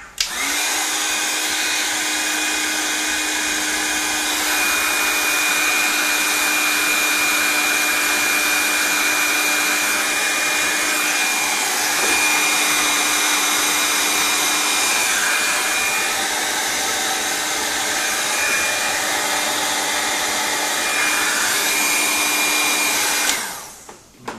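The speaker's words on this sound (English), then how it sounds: "we're going to need to give this some assistance with heat gun." Heat gun blowing hot air while working on the cooling system of a BMW E39 electric conversion: a loud, steady fan roar with a faint whine that runs unbroken and close before cutting off at the end.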